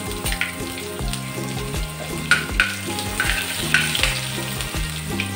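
Chili paste and asafoetida sizzling in hot oil in a pan, a close, continuous frying crackle with steady stirring scrapes and no talk.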